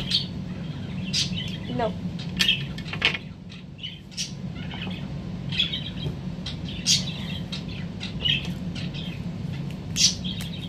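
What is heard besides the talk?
pet birds chirping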